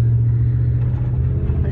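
A 1995 Dodge Ram 1500 Laramie pickup with about 79,500 original miles drives along, its low steady engine rumble and road noise filling the cab, with no talking over it.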